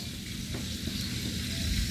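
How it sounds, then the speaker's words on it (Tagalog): Fish scales sizzle steadily in hot oil in a pan, a dense, continuous crackling hiss with no talk over it. "Prito mo yung kaliskes."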